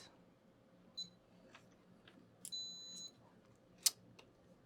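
A few short, high electronic beeps from a multimeter in continuity mode testing a laptop's power rail, one held slightly longer, against a quiet background with faint handling noise.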